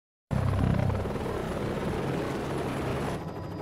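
Helicopter flying over the Makalali elephant reserve in South Africa, a steady loud rotor and engine roar that starts abruptly and holds at even volume throughout.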